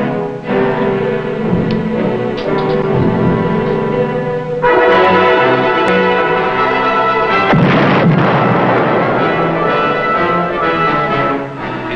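A submarine torpedo launch aboard the USS Guardfish gives a loud, sustained booming rush with tonal ringing. A heavier blast surges midway and rolls on to the end, with no voices.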